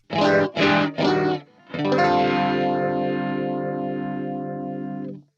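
Electric guitar played through Cubase's Jimmy's Rhythm track preset, with distortion and a sweeping chorus effect: three quick strummed chords, then one long sustained chord that rings out and wobbles steadily, loud and close.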